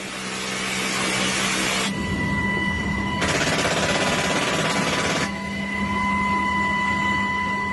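Army machine-gun and artillery fire from the air, heard as dense, continuous rapid fire that swells and fades in long bursts under a steady mechanical drone, loud and unbroken throughout.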